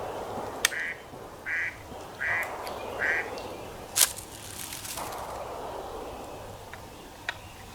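Four quick duck quacks in a row, close and clear, a man out on the frontier imitating a duck call, followed by a sharp click and faint rustling outdoors.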